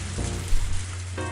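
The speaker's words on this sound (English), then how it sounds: "It's very late and raining very hard." Heavy rain pours late at night in the visual novel game Higurashi, a dense steady hiss over a low constant hum with no voices.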